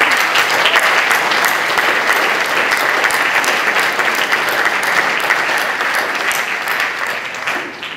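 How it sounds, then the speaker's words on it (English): A large audience claps in a sustained round of applause at a London event on the history of Polish Scouting, a dense, steady wash of hands close by that carries on for several seconds and thins slightly at the end. "I think we should all give you a round of applause."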